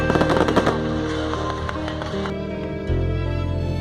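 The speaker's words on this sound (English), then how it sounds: "Fireworks are the part of marriages, cultural events and major festivals like Dussehra, Diwali and Christmas." Firecrackers and fireworks explode in rapid, machine-gun-like bursts, loud and close, crackling densely at first before settling into a steady rattling rumble.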